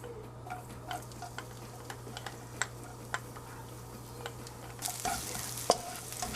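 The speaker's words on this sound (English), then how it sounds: "I'm going to be sauteing some garlic and some onions" Garlic and onions sautéing in a pan for a honey sesame chicken and fried rice dish, with steady faint sizzling, scattered clicks and stirring taps, and a brighter burst of frying hiss near the end.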